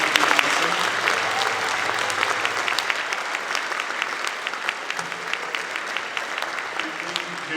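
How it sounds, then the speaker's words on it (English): Parents at a middle school spring band concert give the student band a round of applause, sustained dense clapping from a large crowd in a hall, even and continuous throughout. "Let's give them a round of applause."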